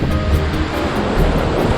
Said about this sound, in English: I'm now at the ocean